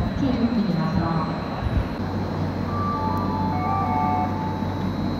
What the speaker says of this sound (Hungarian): Szabolcsi-Tekergő Express vonat érkezik Zápony állomásról az 5. vágányra.